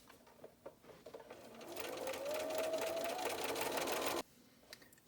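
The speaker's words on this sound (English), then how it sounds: "Line up the edges and sew using the chain piecing method." Sewing machine chain piecing quilt block triangles: after a few light clicks, the motor hums in one steady run of about two seconds at close range, then stops abruptly, with faint handling sounds before and after.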